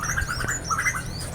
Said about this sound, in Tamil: பாருங்கள் மேலே குருவிங்கெல்லாம் பறக்குதுங்க